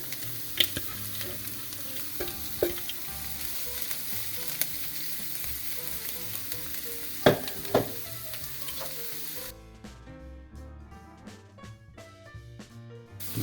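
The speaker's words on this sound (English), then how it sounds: "So these are just starting to turn brown, so we are going to add our Brussels sprouts to this." Shaved Brussels sprouts sizzle in a frying pan with browned, caramelized ingredients, a soft steady crackle broken by scattered stirring clacks, until the frying quiets noticeably near the end.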